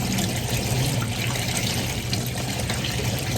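Tap water runs steadily into a sink as food is rinsed, a continuous close splashing stream with no talk.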